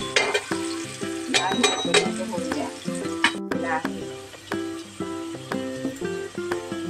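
Onion frying in hot oil for traditional Khandeshi masala rice, a continuous sizzle with occasional utensil clinks, partly covered by louder background music.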